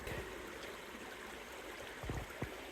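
A creek on the Mulkey Ridge hiking trail near Corvallis, Oregon flows strongly with springtime water, a continuous close rushing wash with a couple of faint thumps near the end.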